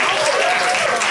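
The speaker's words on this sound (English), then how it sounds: "let's give a big round of applause" An audience at a fundraising academy event gives a loud, sustained round of applause for a raffle donor, a continuous wash of many hands clapping close by without a break.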